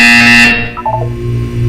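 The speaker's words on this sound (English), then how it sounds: "You will hear a buzzer." A loud electronic buzzer blares in the Portal 2 video game, one harsh sustained tone that cuts off about halfway, followed by a short electronic chime and a low hum.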